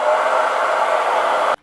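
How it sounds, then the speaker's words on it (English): A blow dryer blowing a steady, loud broadband rush, used to heat adhesive strips on a couch cushion, cutting off abruptly at the end. "So here's where the blow dryer comes in handy."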